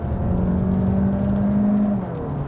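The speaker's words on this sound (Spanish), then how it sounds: "Ahora vamos a hacer una con el modo híbrido." A Cupra Formentor plug-in hybrid accelerates hard in hybrid mode onto a highway on a rainy day, wheels slipping; a steady engine and electric whir rises in pitch, heard from inside the cabin, loud and alone.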